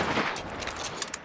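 A short, dense burst of gunshots as the player fires a weapon in Hunt: Showdown, close and steady over a noisy backdrop.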